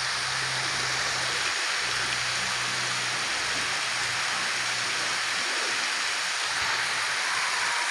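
Steady, dense rainfall hisses evenly throughout, with a low hum underneath early on.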